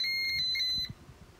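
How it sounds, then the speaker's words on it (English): A Pyronix Euro-46 alarm panel sounds after a door shock sensor trips, giving a steady, piercing high electronic tone for under a second before cutting off, followed by faint handling noises. "Alarm is on."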